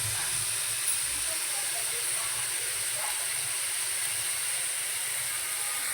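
Vegetables for Mumbai-style pav bhaji fry in a pan with a continuous, even sizzling hiss that stays steady and moderately quiet throughout, with faint kitchen sounds underneath.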